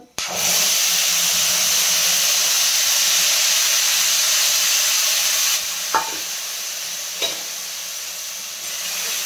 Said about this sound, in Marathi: हे आपण जे खडे मसाले काढले होते ते टाकून घेणार आणि छान ह्याला आपण फ्राय करून घ्यायचं आहे आपल्याला